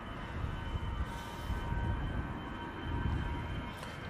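An EasyJet airliner on its takeoff roll at Manchester Airport, bound for Hamburg, makes a steady, broad rumbling roar that swells gently and holds at a moderate distance throughout.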